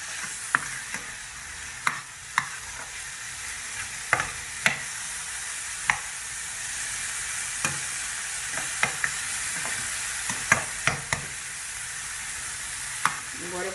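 Chopped tomato with seasoned salt sautéing in a pan for a potato rosti filling, giving a continuous close sizzle broken by irregular sharp taps and scrapes of a stirring utensil, with no voices.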